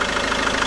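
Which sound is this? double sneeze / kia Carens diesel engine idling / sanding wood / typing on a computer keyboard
kia Carens diesel engine idling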